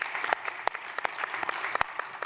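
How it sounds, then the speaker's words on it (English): An audience at a global-initiative annual meeting breaks into a round of applause, many hands clapping in a full, even patter with a few crisp, close claps popping out, and no talking over it. "Round of applause, please."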